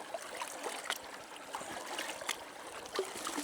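A shallow creek trickles and burbles steadily close by, with soft splashes and gurgles scattered through a continuous gentle flow of water.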